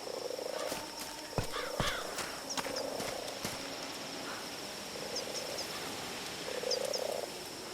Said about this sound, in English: the frogs and birds, the insects